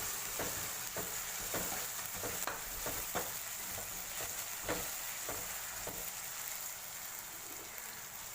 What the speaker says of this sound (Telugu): ఆనియన్లో ఉప్పు వేస్తే బాగా త్వరగా ఫ్రై అయిపోతుంది అన్నమాట.